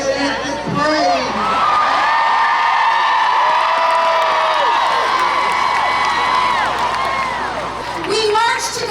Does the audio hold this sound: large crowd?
yes